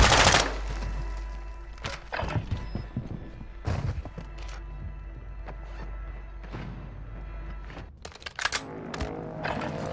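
Heavy automatic gunfire and scattered gunshots crackle through a Battlefield 2042 firefight on the Vondel Park map, with repeated loud bursts, a low rumbling bed and brief sharp cracks near the end.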